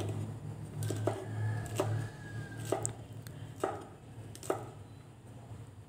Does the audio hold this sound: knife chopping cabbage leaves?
yes